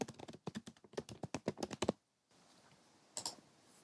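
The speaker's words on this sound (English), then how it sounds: "I'm going to type that in." Rapid keystrokes on a computer keyboard as a library database search is typed, a quick run of close, crisp clicks followed by a pause and one last short burst.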